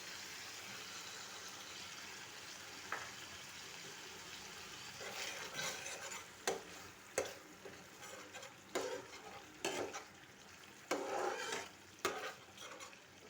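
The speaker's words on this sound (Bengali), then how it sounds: "ভালো করে মশলাটি কষানো হয়ে গেলে" Cashew and poppy seed paste masala sizzling in a pan while being stirred, a quiet continuous fry broken by repeated scraping strokes of a spatula in an uneven rhythm.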